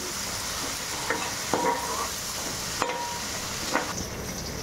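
Curry leaves frying in a pan with peanuts for uggani: a constant soft sizzling hiss with occasional stirring scrapes and taps, close and fairly quiet.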